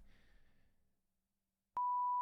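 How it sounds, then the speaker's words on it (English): A single electronic beep sound effect, a pure steady tone that cuts in sharply and holds, loud and clean after a faint fading murmur and a stretch of silence. "I hope that beep works."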